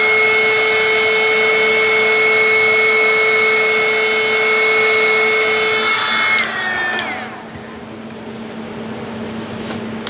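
A loud, steady whining blower, like a hair dryer or heat gun, aimed at resin coasters, running close for several seconds before switching off and winding down.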